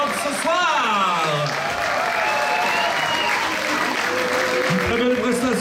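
Concert crowd at a club applauds a rock band with three female musicians after their set, loud continuous clapping with a voice talking over it and tonal stage sounds woven through.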